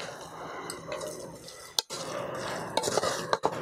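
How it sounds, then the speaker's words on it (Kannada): Beetroot palya stirred in a pan, with soft wet scraping and a few sharp drips and taps near the end, close and fairly quiet. "ಈಗ ಮಿಕ್ಸ್ ಮಾಡ್ತಾ ಇದ್ದೀನಿ"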